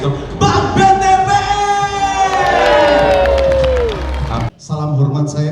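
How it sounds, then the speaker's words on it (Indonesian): A crowd at a corporate awards night claps and cheers loudly, with a shouting voice and a musical tone riding over the noise before a short drop and the din resuming. "Tepuk tangan sekali itu."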